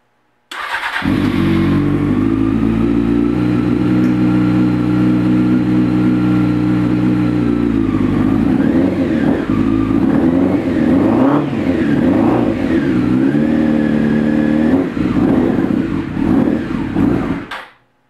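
Motorcycle engine, a bike that had run on its side, idling loudly and close after its first start, a steady rumble with uneven revs and sputters that cuts out at the end.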